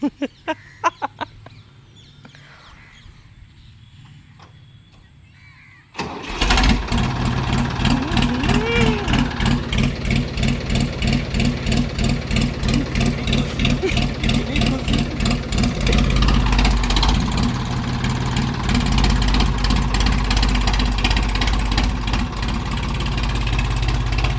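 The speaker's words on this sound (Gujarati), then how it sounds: "ટ્રેક્ટરની સર્વિસ પતી ગઈ અને ટ્રેક્ટર જતું રહેશે ઘરે" A tractor that has just been serviced idles close by after a sudden start, a loud, steady chugging throb with rapid regular pulses, after a quiet opening with a few knocks.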